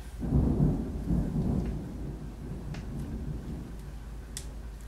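Low thunder rumbles and rolls heavily, then fades into steady rain hiss with occasional sharp drips nearby.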